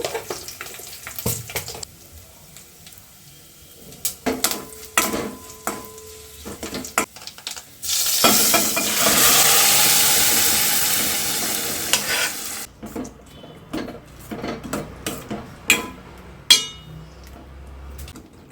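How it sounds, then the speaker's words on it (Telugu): Spices hiss and sizzle loudly in hot oil for several seconds, set between scattered clinks and scraping of utensils against a pan. "ఇంకా నేను తాలింపు వేస్తున్నాను"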